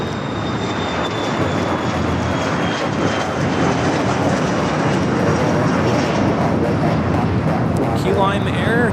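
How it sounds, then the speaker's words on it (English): A Key Lime Air plane takes off from Los Angeles airport, and its engines give a steady, loud, broadband roar throughout. Talk is faintly audible in the background. "Key Lime Air 232 taking off to Phoenix"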